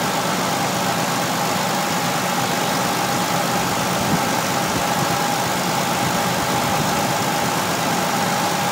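A Ford 4.0 SOHC engine idles steadily and loudly up close after its timing chain tensioners were replaced, a smooth continuous drone with no audible rattle.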